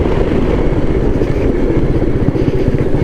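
A Royal Enfield Meteor 350 motorcycle ridden on a road, its engine giving a steady, loud, close low drone with a continuous rumble throughout and no speech.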